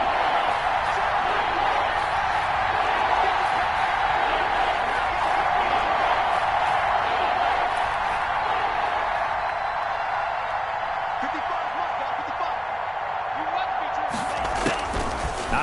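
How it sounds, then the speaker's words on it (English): A stadium crowd in a football video game roars as a steady, dense wash of cheering noise, loud and sustained throughout, with a sharp burst near the end. "the crowd getting into it as we come up on a big 3rd down"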